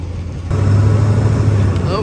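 A 1928 Cadillac car with its engine running as it pulls away, a steady low engine rumble that grows louder after a quieter start and holds close and even throughout, with speech likely mixed in.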